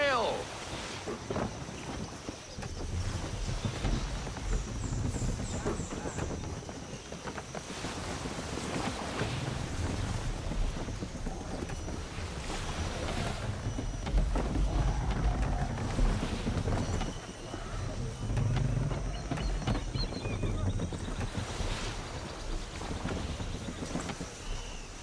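Sailing ship on open sea in Assassin's Creed 3, with steady wind rushing, creaking hull and wash of waves throughout, under a voice giving orders.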